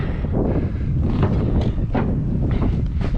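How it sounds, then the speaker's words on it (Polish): Wind buffeting a microphone outdoors on a farm field, a loud, rumbling low roar that surges in gusts throughout, no talking. "Wieje trochę dzisiaj. Mam nadzieję, że nie będzie to przeszkadzać w nagraniu."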